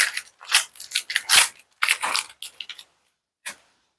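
Knife cutting and peeling meat, a run of close wet crunching and slicing strokes in irregular bursts, then a pause and one last short cut.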